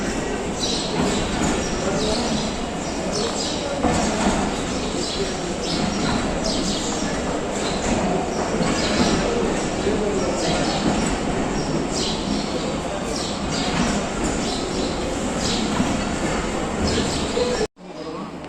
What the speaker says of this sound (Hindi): रेक आ गया ये 134 डाउन और एक्सप्रेस का।